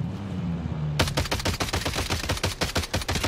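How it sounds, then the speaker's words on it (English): Machine gun fire in the video game Warzone breaks out after a second of quiet ambience, a rapid string of sharp, loud bursts and cracks fired close by, with no talking. "A lot of gunshots in front of us."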